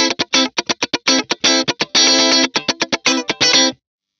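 A funk electric guitar picked aggressively through a Blackstar St James amp and captured by a 57 dynamic mic, playing choppy rhythmic strummed chords with bright attack, loud and close, then stopping abruptly.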